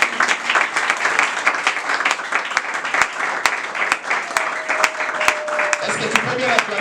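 A church congregation applauds steadily throughout, dense sustained clapping with sharper individual claps standing out, while a sustained tone and voices rise briefly near the end.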